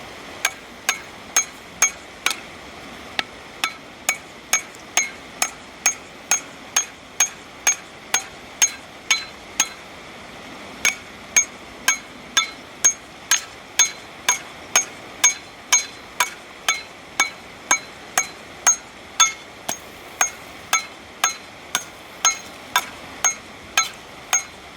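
Steady, evenly spaced metallic pounding of an ice axe driving a picket sideways into snow, dozens of sharp strikes repeating about twice a second for the whole stretch, close and unvarying.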